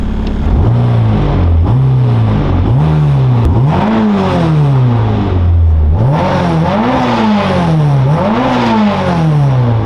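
A 661 HP Honda R34 GT Type R engine running loud and close, its pitch rising and falling in repeated revving swells rather than holding a steady idle.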